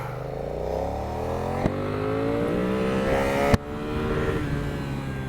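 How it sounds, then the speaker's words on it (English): A 2020 BMW F 900 R motorcycle engine revs steadily upward toward the red line in first gear, its rising pitch climbing for several seconds, close and loud, with a couple of brief clicks and no talk. "All the way to red line in first gear"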